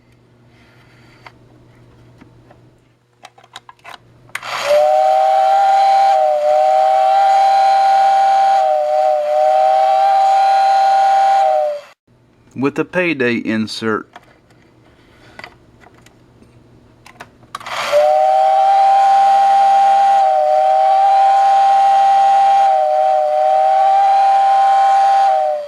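A Tyco #934 remote-controlled toy train steam whistle, housed in a billboard, blows in long, loud, sustained bursts, pausing briefly between blasts, with a short spoken phrase in the gap.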